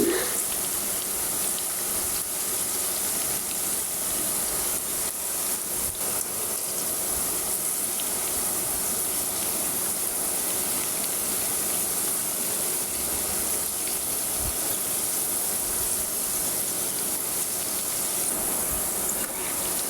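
Okra (lady finger) slices frying in hot oil in a kadai over medium heat give a steady, dense sizzling hiss that holds evenly for the whole stretch, with no voices.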